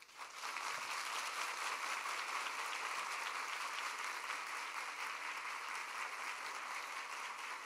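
Sustained, steady applause from a standing audience at a graduation ceremony fills the hall, loud and continuous throughout with no speech over it.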